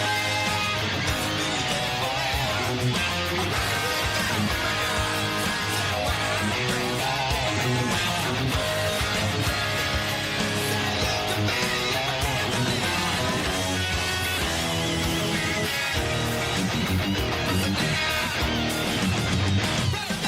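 Electric guitar plays the chorus of a song as a dense, continuous full-band passage, loud and steady throughout with no talking.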